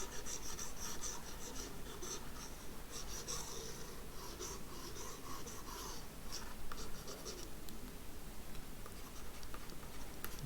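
A marker or chalk scratches and rubs continuously across a board during a Class 12 maths lecture, a soft, steady scraping with no talking over it.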